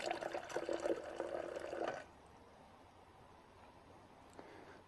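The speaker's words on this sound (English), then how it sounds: "Pour some water into the bottom." Water pours into a bowl to pre-soak a PiMag Waterfall filter and pre-filters, a steady splashing run for about two seconds that then stops, leaving quiet room tone with a faint drip.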